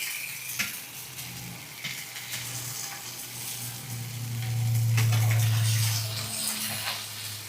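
Fish shallow-frying in plenty of oil in a pan sizzles steadily and close, with scraping and clattering as pieces are flipped and a brief louder burst of frying midway.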